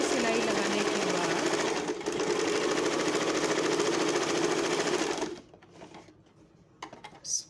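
A sewing machine runs steadily while stitching a plain seam through two layers of fabric, a fast rapid whir lasting about five seconds before stopping and leaving faint handling noises.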